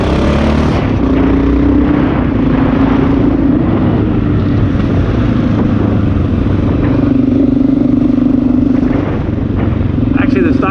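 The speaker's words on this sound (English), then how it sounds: "Definitely this Lexx exhaust is loud enough that" A Honda XR650L motorcycle fitted with an aftermarket Lexx exhaust runs steadily with a loud, throbbing rumble throughout, while someone talks over the engine.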